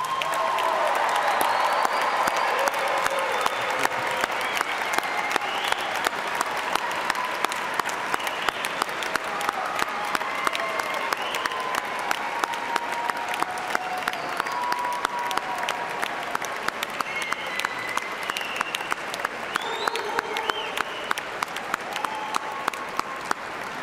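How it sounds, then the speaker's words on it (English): A large commencement crowd at Eastern Kentucky University's fall evening ceremony gives sustained, loud applause for the new graduates, dense clapping with some cheering that holds steady for about twenty-four seconds. "let us recognize with a hearty round of applause EKU's newest graduates."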